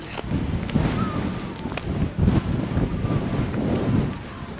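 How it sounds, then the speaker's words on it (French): Strong wind on a plateau in the Pyrénées-Orientales roars and buffets against the microphone in continuous gusty rumbles, loud and close, with a few faint sounds beneath. "Il y a un vent dingue."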